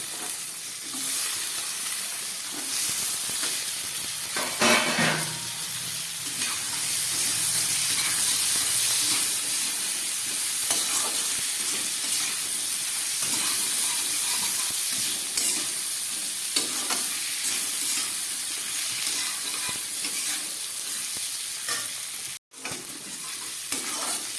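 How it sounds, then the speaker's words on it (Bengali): Chopped vegetable stalks frying in a pan for a thin rohu fish curry, with a steady loud sizzle and hiss and intermittent scraping stirs throughout. "ডাঁটাটা খুব ভালো করে কষে গেল।"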